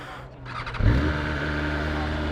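A 2023 BMW M1000R naked motorcycle of 210 horsepower cranks briefly with a starter whir, then fires into a loud, close, steady idle.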